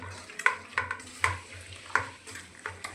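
Wet, squelching hand-mixing of green chili paste into biryani ingredients, with several soft, irregular squishes and light clinks close by, no talk.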